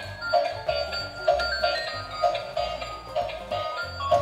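A transparent mechanical gear racing toy car plays a tinny electronic melody with a repeating chime-like pattern, mixed with the whir and rattle of its rolling gears, fairly close and with no talking.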